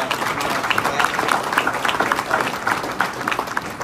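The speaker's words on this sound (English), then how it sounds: "Let's get a round of applause for the 8-0 Wildcats, soon to be 9-0 after." A crowd applauds an undefeated 8-0 Wildcats football team at a Hall of Fame induction, a dense, steady wash of clapping throughout with faint cheering mixed in.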